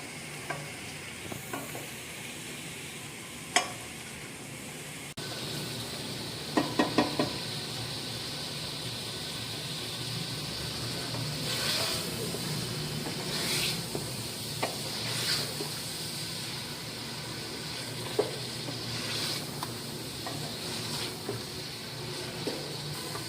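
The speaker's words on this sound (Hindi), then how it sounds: "देखिए ये चिकन थोड़ा फ्राई हो गया।" Chicken pieces fry with onions in a pot, giving a steady, close oil sizzle that lasts throughout, broken by occasional sharp clinks and scrapes of a spoon stirring against the metal, without any talk.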